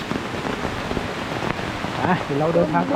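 Steady rain hisses down at a waterfall, a broad wash of noise running throughout while someone talks over it near the end.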